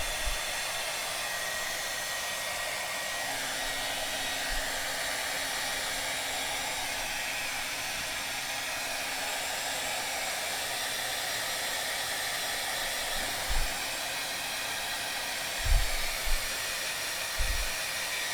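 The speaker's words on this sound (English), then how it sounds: "All right, Tony, I'm going back in on the hairdryer." A hair dryer runs steadily throughout, a constant loud whooshing blast with a few faint low bumps near the end.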